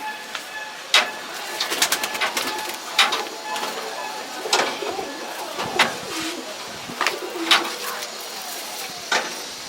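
Female pigeons coo and call in short bursts at close range, repeated several times across the stretch, with faint background noise between calls.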